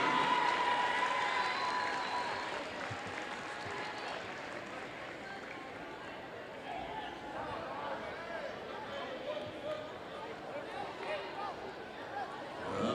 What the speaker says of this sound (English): let's give our little Cyclones and future Cyclones a big round of applause